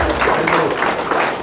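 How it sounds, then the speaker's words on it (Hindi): A crowd at a BJP office welcomes new party members with dense clapping, and a voice speaks over the steady applause. "तालियां बंद नहीं होनी चाहिए, तालियों का शोर जबरदस्त"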